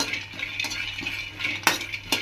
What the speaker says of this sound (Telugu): ఈ వేరుశనగ పప్పు ఫ్రై చేసుకోవాలి, ఆయిల్ లేకుండా ఫ్రై చేసుకోవాలి ఫ్రెండ్స్